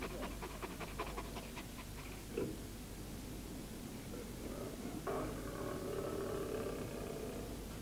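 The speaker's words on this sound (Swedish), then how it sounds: "Hur kan hunden bli kallare genom att flämta?" A dog pants steadily in rapid, breathy rhythm, close but soft beneath a constant broad hiss of background noise, with no voices.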